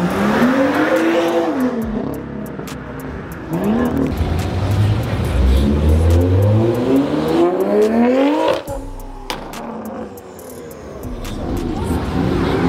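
A modified car leaving a car meet in Africa revs loudly in several rising bursts, its exhaust note sweeping up and dropping back, with street noise around.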